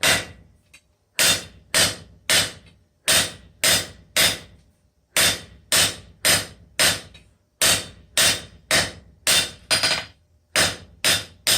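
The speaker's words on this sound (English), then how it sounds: "Once you get that, go ahead and start hammering." Steady hammer blows ring on hot iron on an anvil in groups of three or four with brief pauses between, loud and close, no talking.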